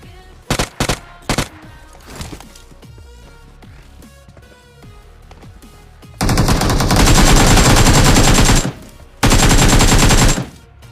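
Gunfire in the battle royale game BGMI: a few sharp separate shots, then long loud bursts of automatic fire with a brief pause between them, close and dominant.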